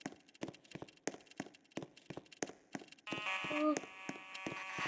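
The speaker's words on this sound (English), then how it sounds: "I don't even know the fire alarm's going off over there." School fire alarm sounding with a harsh, steady buzzing tone that starts partway through, preceded by a run of sharp repeated clicks or knocks; everything is faint and distant.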